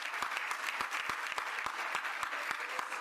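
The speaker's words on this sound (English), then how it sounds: "Let's give mom a round of applause." An audience at a summer youth internship program celebration claps in sustained, even applause of many hands, steady throughout.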